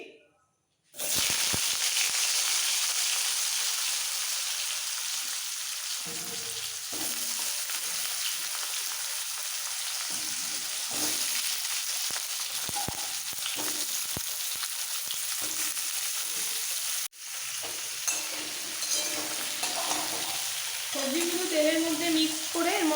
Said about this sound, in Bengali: এবার এর মধ্যে সবজিগুলো দিয়ে দেবো বেগুন বাদ দিয়ে আলু মূলো কুমড়ো সব দিয়ে দিচ্ছি